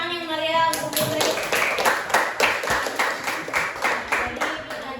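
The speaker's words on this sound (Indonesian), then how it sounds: "beri tepuk tangan yang meriah untuk Putri" Students clap for a classmate after her presentation in a classroom, a dense, steady burst of hand claps that swells in and continues throughout, with some voices mixed in.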